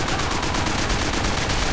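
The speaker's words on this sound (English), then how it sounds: "from convincing grenade blasts to brilliantly represented contemporary weapons" Gunfire from the video game Call of Duty: World at War, with dense, rapid, overlapping automatic shots and blasts forming a loud, continuous barrage with no talking.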